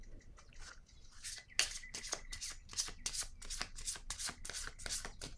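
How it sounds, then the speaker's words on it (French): Cards being handled and shuffled from a deck, a quick run of crisp papery flicks and slaps, close and fairly faint, with no voice. "Je vais piger maintenant une carte rose."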